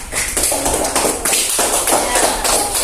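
A burst of classroom hand clapping, steady and fairly loud, with the claps blending into a busy patter that swells and dips across the whole stretch.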